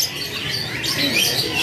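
Dark-coloured canaries in a kiosk at Pramuka bird market, a dense stream of high twittering chirps from several birds close by, continuous and busy.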